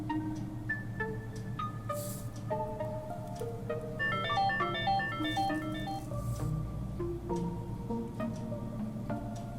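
Motorola FW200L GSM landline phone plays its power-on tune, a bright electronic melody of stepped beeping notes that runs steadily and fairly loud, with a busier cluster of quick tones in the middle and no talking.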